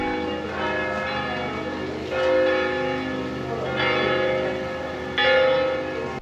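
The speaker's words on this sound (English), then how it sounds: "hearing the bells ringing while you are in the middle of the mission" Mission church bells ring out in several strong, resonant strikes, each one sustaining and overlapping the decaying hum of the last, with no voices.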